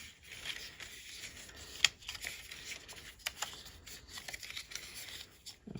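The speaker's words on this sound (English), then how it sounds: "I'm just going to flip up each one of these tabs on the bottom. And then fold these in." Paper tabs on the bottom of a papercraft box are flipped up and folded in, giving soft, quiet crinkling and rustling with a few sharp crisp creases, close up.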